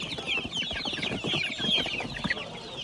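Chickens cluck and squawk in a dense, continuous chorus at a poultry market in Manas, where chicks are sold, loud and close with overlapping calls throughout.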